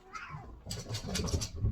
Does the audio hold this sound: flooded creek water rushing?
no